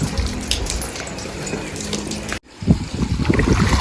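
Water is sprayed onto rooftop solar panels to wash off dust, a steady broadband hiss and splash that cuts out abruptly, then returns as choppier splashing and dribbling.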